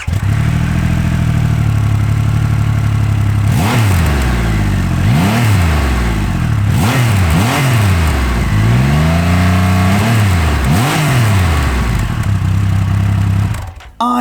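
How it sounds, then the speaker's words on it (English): A Triumph Rocket 3 Storm R motorcycle's big triple engine and exhaust rev loudly and up close over a steady idle, with about six sharp throttle blips rising and falling in quick succession before cutting off abruptly. "the note at the exhaust is kind of like a speed triple, but if you doubled it in capacity"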